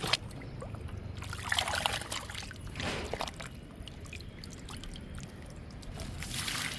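Liquid fertilizer is poured onto a sapota plant as a faint, uneven trickle and splash of liquid over quiet outdoor background.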